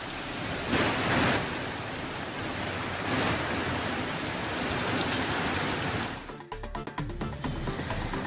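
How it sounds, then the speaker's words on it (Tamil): Heavy rain pours down in Ponneri, Tiruvallur district, a dense steady hiss of downpour lasting several seconds, loud and close, with heavy drips and splashes near the end. "திருவள்ளூர் மாவட்டம் பொன்னேரியில் 1 மணி நேரத்திற்கு மேலாக கனமழை பெய்தது"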